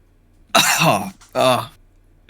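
Two harsh, throaty coughs in quick succession, close and fairly loud.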